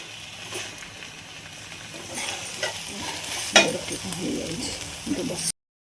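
Tomatoes stir-fry in a hot pan for a mushroom chicken dish, with a soft sizzle and scraping stirs that grow busier toward the end, while a voice talks over the cooking.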